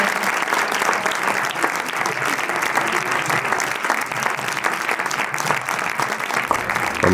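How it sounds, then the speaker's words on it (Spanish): Sustained applause from a cinema audience at a film presentation in Majadahonda, dense steady clapping from a full room lasting throughout with a faint cheer near the end. "yo creo que se merece un aplauso grande"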